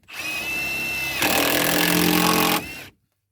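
A cordless power tool drives screws into rustic wood, a steady whine that deepens under heavier load midway, then stops abruptly; close and loud, with no talk.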